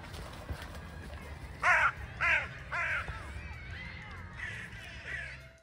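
Outdoors in autumn, a crow overhead gives a series of three loud, harsh caws in quick succession, followed by fainter, drawn-out calls, all over a steady low background rumble.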